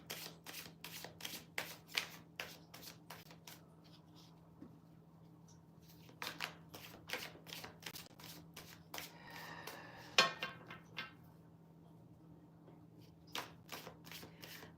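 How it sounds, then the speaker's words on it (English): Tarot cards shuffled by hand at a reading table, a run of soft quick riffling flicks, then a pause, then more bursts of shuffling and a brief clatter, all close and quiet with no talk. "let me throw some more cards"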